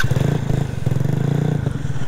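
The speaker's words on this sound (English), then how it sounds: "let me start my bike" A homemade electric motorcycle, built with a wired controller and motor, starts up close by with a loud, steady low motor drone and rapid pulsing rattle that holds for about two seconds, with no talking over it.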